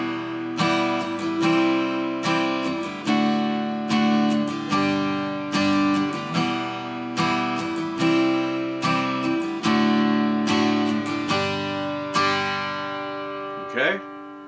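Acoustic guitar strumming a chord progression, played in regular time with steady, evenly spaced chord strokes ringing out clearly and close, ending on a short sliding note.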